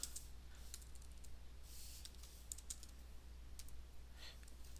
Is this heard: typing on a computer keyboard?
yes